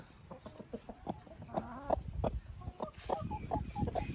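A hen clucks nearby in a series of short, uneven bursts, her calls quickening toward the end.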